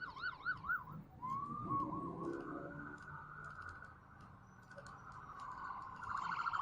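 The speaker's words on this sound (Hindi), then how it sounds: "देखो ये एम्बुलेंस आई है, रास्ता देना शुरू कर दिया लोगों ने" An ambulance siren sounds on a Bangkok street, a rapid warbling wail at first that shifts into a long sustained tone over faint traffic noise, moderately distant.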